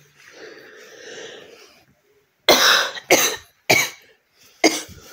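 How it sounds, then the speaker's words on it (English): Someone coughs indoors, several short, sharp bursts in a row after a stretch of quieter breathy throat sounds, close to the listener. "Got a cough."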